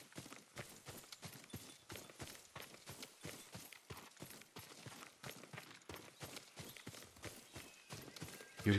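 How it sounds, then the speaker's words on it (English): Horse hooves clopping in the video game Ghost of Tsushima, a steady rapid gallop of repeated sharp hoof strikes throughout, moderately loud and close with no talking over them. "Yuriko's horse. She can't be far."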